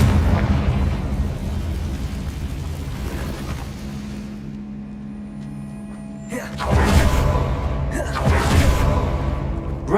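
A Confringo blasting spell goes off in Hogwarts Legacy, loud booming bursts arriving after a low rumbling stretch, with two strong blasts and crackling debris near the end.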